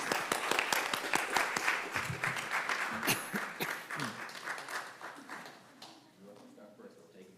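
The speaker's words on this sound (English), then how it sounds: "If you all can give a hand clap for our board members." An audience at a public school board meeting applauds its board members with a full round of clapping. The applause is loud at first and slowly fades, and voices speak over the tail end.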